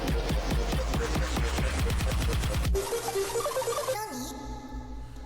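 The build-up of an electronic track: rapid, accelerating drum hits drive toward a sudden cut, then sustained synth tones and a falling sweep carry on over a low pulse.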